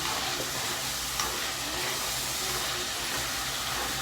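Chicken pieces fry in gravy with a steady, continuous sizzle and hiss, close and even throughout, with no voices.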